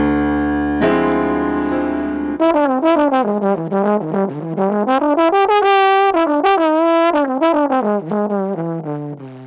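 A brassy trombone plays a quick, winding melodic minor line over a minor ii-V-i, with many rapidly shifting notes over a sustained accompanying chord.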